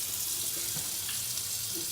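Hot water pours steadily from a faucet into a new 33-inch stainless steel top-mount sink, a continuous close hiss and splash with no talking.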